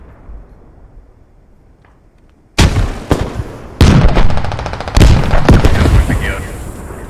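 A grenade blast in the tactical shooter Squad, followed by gunfire: quiet background, then a sudden loud explosion with several more heavy booms and shots that ring out and decay, while a voice talks over the action.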